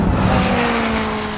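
Car on a hot lap braking into a corner, with a loud close engine drone and road roar that eases slightly as it slows, with a faint tyre scrub under the tone.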